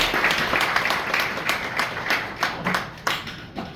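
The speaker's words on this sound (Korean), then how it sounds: "큰 박수로 환영해 주시기 바랍니다." A church congregation applauds steadily, dense clapping from many hands filling the room, with a few sharper claps standing out toward the end.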